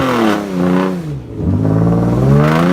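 A 2011 Hyundai Genesis Coupe revs hard with its wheels spinning, a loud, close engine note that climbs, dips briefly, then climbs again in a sustained whine with no talk.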